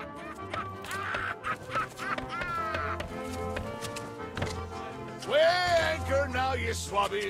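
Hens clucking and squawking in the video game Sea of Thieves, a busy flock of fowl calls over a game background with tapping, getting louder toward the end.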